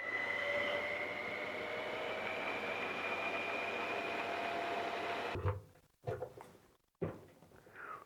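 A honey extractor spinning frames of honeycomb, a steady mechanical whir with a faint whine that runs evenly, then stops abruptly, followed by a few clunks and knocks.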